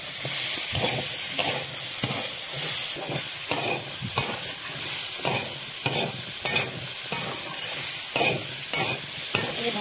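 Chickpeas being stirred and sautéed in a pan, with rhythmic scraping strokes of the spoon over a constant loud sizzle, close up and with no voices.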